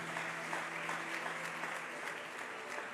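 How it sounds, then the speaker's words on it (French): Church congregation applauding loudly on the preacher's call during a service, a steady dense wash of clapping that holds for several seconds with no pause. "on acclame très fort"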